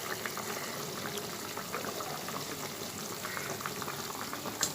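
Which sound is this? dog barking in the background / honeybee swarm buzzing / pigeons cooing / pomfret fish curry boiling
pomfret fish curry boiling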